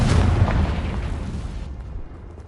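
A Confringo fire spell exploding in Hogwarts Legacy, a loud booming blast with rumbling low end that decays over two seconds.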